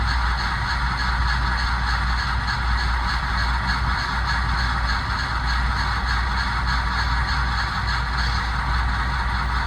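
Sound-equipped SD40-2 scale model diesel locomotive, number 3225, starting up on a layout: a steady low engine rumble with honking horn-like tones held throughout, loud and close, no talking.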